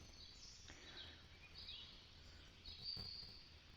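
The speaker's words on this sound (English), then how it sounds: "It has forest with small river birds." A forest-and-small-river soundscape from TOZO NC9 earbuds: faint, scattered small bird chirps and tweets over a soft, steady natural background hiss, with no voices.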